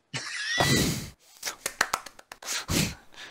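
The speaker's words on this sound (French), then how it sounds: "Et on applaudit." A scattered round of hand clapping from a small group follows a brief voice, with uneven claps and pauses rather than a sustained ovation.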